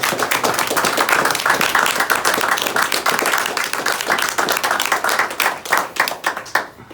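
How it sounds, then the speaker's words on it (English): An audience applauds for a veteran, loud close clapping with many distinct hand claps, steady at first and thinning into scattered claps toward the end. "So I would love a round of applause for Don Davis."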